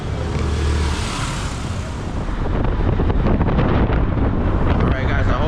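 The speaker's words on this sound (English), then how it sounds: "It's windy, so hopefully y'all can hear me good." Heavy wind buffets the microphone while riding a moto through Medellín, a loud, continuous roaring rush with a low rumble underneath and no clear voice over it.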